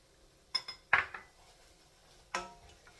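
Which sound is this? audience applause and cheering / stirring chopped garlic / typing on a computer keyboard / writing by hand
stirring chopped garlic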